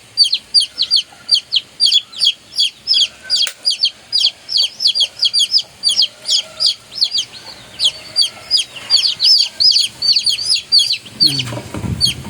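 Backyard chickens clucking in quick repeated bursts close by, a busy run of sharp short calls with brief pauses, ending in a low rustling thump.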